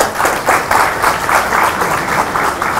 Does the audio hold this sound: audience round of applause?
yes